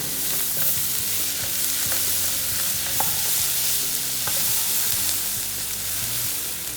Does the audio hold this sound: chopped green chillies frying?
yes